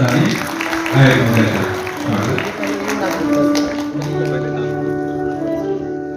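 An audience at an Ambedkar Jayanti celebration for the 132nd birth anniversary gives a round of applause that tapers off into voices and talk.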